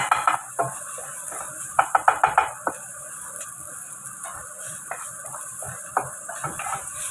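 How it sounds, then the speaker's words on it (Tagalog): Garlic and onion sautéing in a pan: a spatula clinks and scrapes against the metal in irregular clusters of taps over a faint, steady sizzle, with no voices. "Isukti lang natin yung bawang at saka sibuyas."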